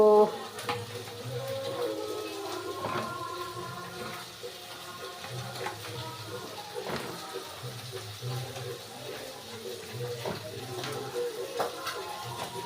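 Pointed gourd (potol) being washed in water in a basket, continuous splashing and trickling with intermittent knocks and rustles, close and steady throughout.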